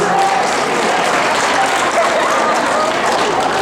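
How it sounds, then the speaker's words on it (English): A school audience claps steadily and loudly, a dense wash of applause filling the whole stretch. "Let's give him another round of applause, everybody."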